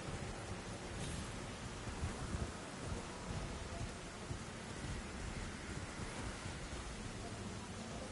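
Steady rain falls with low rumbling thunder in the Elden Ring video game, a dense continuous downpour with deep rolling booms underneath, fairly quiet overall.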